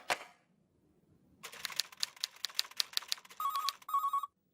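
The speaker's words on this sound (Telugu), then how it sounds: "మన్మథరావు గారు ఎన్నిసార్లు ఫోన్ చేసినా లేడని చెప్పిస్తున్నారు" After a brief clatter, a telephone rings in quick repeated bursts ending in a shrill electronic trill, loud and close in an office setting with no talking.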